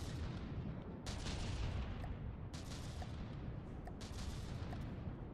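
Ship cannons firing in the naval building game From the Depths, a dense, steady roar of rapid artillery with several sharper bursts standing out, heard alone without speech.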